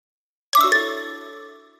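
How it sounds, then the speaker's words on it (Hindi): A phone's message notification ding: a single bright chime with a second quick strike, ringing out and slowly decaying, close and clear after silence. "मैसेज आया।"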